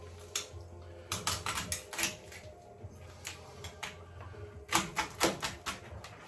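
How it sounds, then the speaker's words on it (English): A carcass being cut into a couple of pieces for stock: sharp, close cracking and chopping hits come in irregular clusters, with quiet pauses between them and no talking. "the carcass, I'm gonna cut it in a couple pieces"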